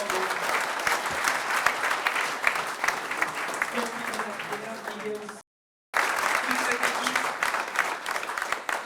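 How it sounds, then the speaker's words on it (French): A crowd claps in sustained, dense applause for a sailing team's helmsman at a team presentation, broken by a brief silent gap before the clapping resumes just as loud. "Merci Quentin Delapierre, applaudissements pour le barreur"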